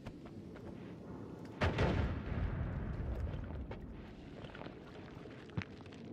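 A video-game bomb goes off with a single loud, booming burst that hangs and rumbles for a moment before fading into the steady game background noise.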